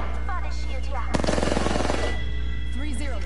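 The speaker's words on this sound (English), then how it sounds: "Who's shooting?" A short, rapid burst of gunshots in Apex Legends in the middle of the clip, fairly loud, with player voices talking around it.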